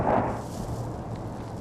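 A single heavy boom from fighting near Kharkiv in the Ukraine war opens the moment, then fades into a low rolling rumble, with no talk.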